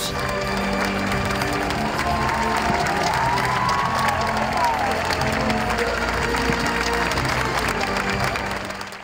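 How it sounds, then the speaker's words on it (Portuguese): Crowd applause across Praça Santuário at the unveiling of the Círio poster, a continuous wash of distant clapping and cheering that holds steady before fading at the end. "se ouvisse por toda a Praça Santuário o som dos aplausos"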